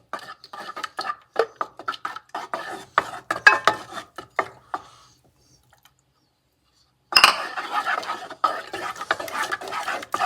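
A utensil whisks beaten eggs into cheesecake brownie batter in a bowl, giving rapid, close clinking scrapes. They pause briefly, then resume at the same busy pace.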